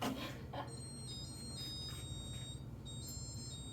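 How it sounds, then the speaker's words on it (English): Two small buzzers on a micromouse robot beep out a high, thin electronic melody of steady tones over a low background hum, faint and without talk. "He added 2 buzzers on it that can play music"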